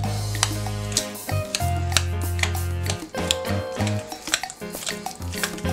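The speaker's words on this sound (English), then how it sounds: "we're going to take our masher and we're going to mash this up" Guacamole being mashed with a hand masher in a bowl, a run of irregular soft squashing thuds and clinks against the bowl, fairly close and alone with no talk.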